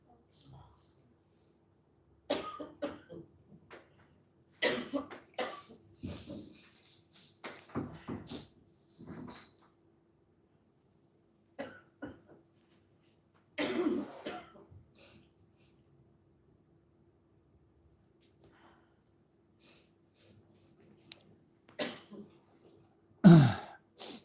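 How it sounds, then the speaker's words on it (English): Scattered coughs, throat clearing and breathy snorts break a quiet room at irregular intervals, some close and sharp, others faint. "she has some cold and cough"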